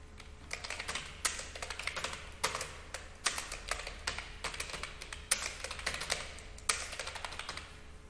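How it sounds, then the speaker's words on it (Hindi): Typing on a computer keyboard while entering data in Excel, with steady, close, soft clicky keystrokes in an irregular rhythm and no talking. "उसके बाद यहाँ नेम हम लोग टाइप करेंगे।"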